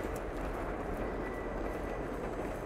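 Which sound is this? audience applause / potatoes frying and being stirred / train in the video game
train in the video game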